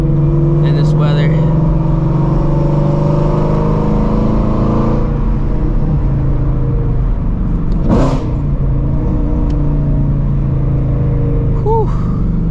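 Shelby GT350 Mustang engine droning steadily with a low rumbling tone that swells under acceleration, running continuously throughout on a cold day with tires that are not trusted.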